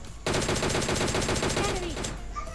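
Rapid automatic gunfire in the video game PUBG Mobile, a loud close burst of evenly spaced shots lasting about two seconds before cutting off.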